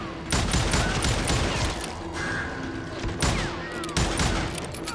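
Gunfire in Call of Juarez Gunslinger on PC crashes out in loud repeated bursts of shots with heavy thumps between them, fast and irregular, with no clear talking over it.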